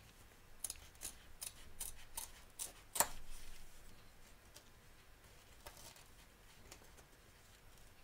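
Scissors snip around the edge of embroidered fabric in a hoop, a run of quick, faint clicking cuts close by, with one sharper snip partway through and no talking.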